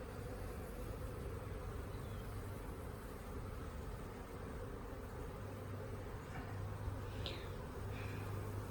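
Honey bees buzz after being shaken from a nuc frame into a 10-frame medium hive, a dense, continuous droning hum of many insects, with a few individual bees passing close.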